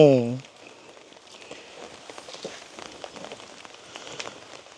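Light rain falls in a rural village, pattering softly and steadily on surfaces nearby, after a brief voice at the very start.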